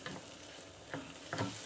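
Chicken balti sizzling and frying in a pan with a little water added around the edges, a soft steady hiss broken by a few brief stirring scrapes, heard alone without talking.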